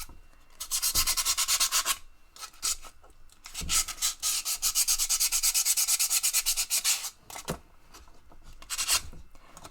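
Rough-grit sandpaper scrubbing a Petoskey stone, a fossil coral, in close, steady back-and-forth strokes that come in long bursts with short pauses between them.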